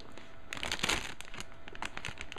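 A plastic bag holding model kit part plates for an SD Sazabi gets handled up close, giving bursts of crisp crinkling and rustling over a couple of seconds with no speech.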